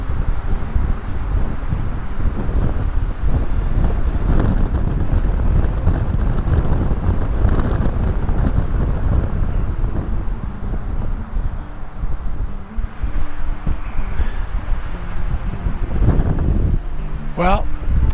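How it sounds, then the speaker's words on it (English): Strong wind rips up a canyon below Arizona's Mogollon Rim, buffeting the microphone with loud, continuous, gusty rumble for the whole stretch, with no clear speech above it. "Well, I know this wind is going to be really bad. It is just ripping up the canyon here."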